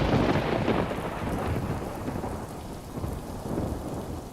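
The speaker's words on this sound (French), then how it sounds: "Ah ouais, là, mais il pleut, genre beaucoup." Heavy rain pours down steadily in a forest, dense and close, with low, rolling thunder rumbling beneath the downpour throughout, and no voices.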